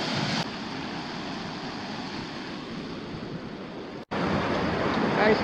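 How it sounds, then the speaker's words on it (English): Water rushes into a canal lock at Ortona, Florida, a broad steady roar like surf that carries on for several seconds, briefly cut off and then resuming loudly. "Here comes the water."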